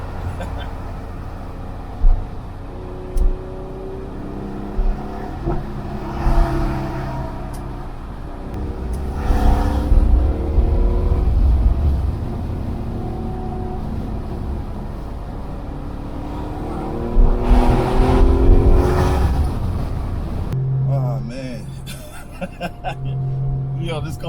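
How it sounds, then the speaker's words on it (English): A Porsche 911 (993) at wide open throttle gives low exhaust roars in a few surges, with a pop among them, heard partly under someone talking over the engine. "at wide open throttle, the exhaust sounds great"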